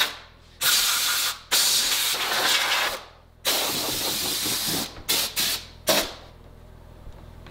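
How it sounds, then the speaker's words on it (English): Compressed air blasts dust off the guide of a 15-inch General band saw in a workshop: several loud, sustained hissing bursts of varying length, the last few short and choppy, alone with no talk. "Now, I wanna blow the dust off the guide."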